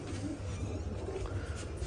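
Pigeons coo in a low, continuous rumbling murmur close by, steady throughout with no voices over it.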